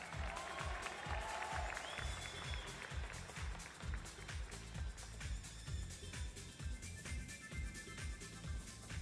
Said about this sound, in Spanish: Un aplauso para Alexander.